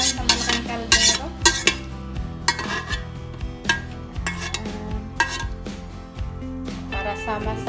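Clattering and clinking of metal pots and utensils as beef bulalo is dropped and stirred in a large pot, in an irregular busy rhythm.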